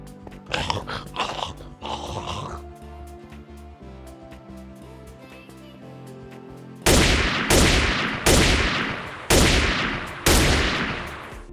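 Guns in modded Minecraft fire a series of about five heavy, booming shots, each with a decaying tail and spaced roughly a second apart, after a stretch of quieter clattering and rumbling.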